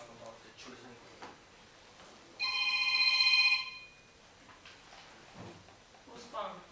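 A phone rings in a housing authority board meeting room: one short burst of bright, tonal electronic ringing that stands out loudly over the quiet murmur of the room, with faint voices before and after.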